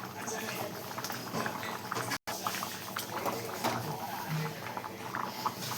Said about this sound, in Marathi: थोडंसं आपण पाणी ठेवणार आहे बघा भाजीमध्ये.